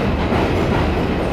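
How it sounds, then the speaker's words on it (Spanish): Elevated train in the Bronx running on green iron structures: a loud, steady, close roar of wheels and steelwork that fills the moment without a break. "Los trenes en altura también son muy típicos del Bronx, que es el que estabais escuchando, en estas estructuras verdes de hierro"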